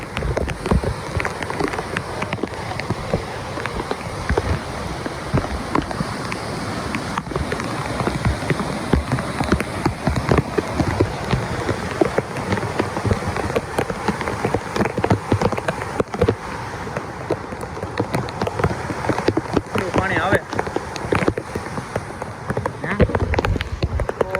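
Heavy village rain in a second downpour drums on surfaces as a dense, continuous patter of drops, steady and fairly loud throughout, with no voices.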